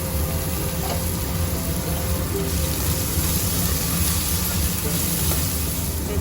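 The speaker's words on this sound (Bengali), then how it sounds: "এরপর আবার একটু বেগুনটা দিয়ে ভেজে নেবো" Eggplant fries in hot oil in a pan, a loud continuous sizzle and bubbling hiss held steady and close throughout, without talk.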